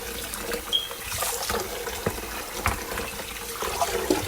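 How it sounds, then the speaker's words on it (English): Tap water runs and splashes steadily inside a whole raw chicken as it is rinsed in a sink, close and continuous, with small irregular splatters and no speech. "I'm gonna get one good rinse out that inside."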